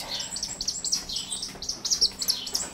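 A young red-tailed hawk with an eye injury at a birds-of-prey rescue gives a rapid string of thin, high chirping calls, fairly quiet and close, with no talking.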